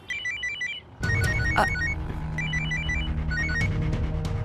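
A telephone rings while a call is placed, a repeating electronic ringtone of short chirping tones heard over a low steady background hum, with no speech.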